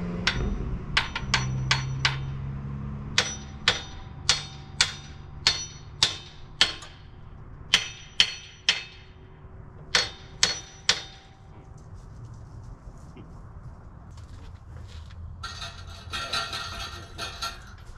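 Sharp metallic hammer strikes on an engine mount bolt ring out in a steady series of about twenty blows, close and loud, then a brief clatter at the end.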